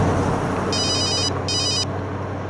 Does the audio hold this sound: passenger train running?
no